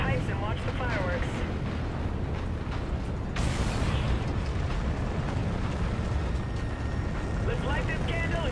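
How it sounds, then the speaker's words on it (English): A tower detonation in the video game Call of Duty Infinite Warfare bursts in as a sudden loud explosive roar over a dense mechanical and industrial game backdrop, with a voice speaking around it. "Let's get visual on that tower detonation."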